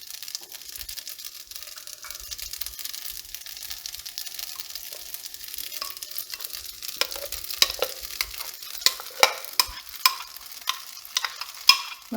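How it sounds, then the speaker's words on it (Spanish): Poblano chile cream poured into a buttered pan for green spaghetti, giving a soft continuous sizzle with stirring scrapes that grow into louder clicks and spatters toward the end, close and without talk. "vamos a agregar nuestra crema de chile poblano"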